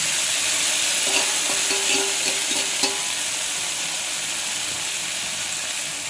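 Cooked beans being stirred into browned onions in a frying pan for a Kerala-style upperi stir-fry, with a steady close sizzle and hiss and a few scraping stirs of the spoon throughout.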